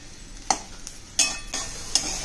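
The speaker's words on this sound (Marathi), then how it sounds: "आता मी हे भाजत राहते, जरा खुशखुशीत होईपर्यंत आपल्याला हे भाजायचं" Curry leaf chutney paste being stirred and roasted in hot oil in a pan, with three sharp spoon scrapes against the pan over a soft continuous sizzle, close and clear, no voices.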